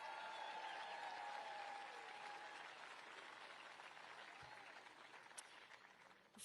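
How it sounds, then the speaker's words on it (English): Crowd applause at an outdoor Independence Day fireworks event at Mount Rushmore, a steady broad wash of clapping that holds fairly even throughout, then thins slightly toward the end. "Let's give them a round of applause."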